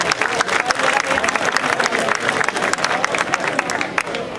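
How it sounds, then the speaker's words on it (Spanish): An audience at a Galician storytelling gathering breaks into loud, sustained applause, dense clapping with some cheering, before it tapers off near the end. "Un aplauso moi forte para ela."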